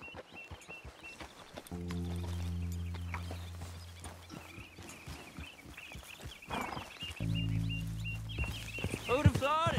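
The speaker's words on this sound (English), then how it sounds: "Grab your horse and let's go." Horse hooves clip-clop at a riding pace in the video game Red Dead Redemption 2, a steady rhythm of hoofbeats under low engine-like drones and game speech, with brief snorting sounds.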